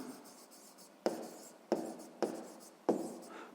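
Pen or chalk strokes during a sixth-grade math lesson scratch out in a few short, distinct bursts, each starting sharply and trailing off, close by in a quiet room.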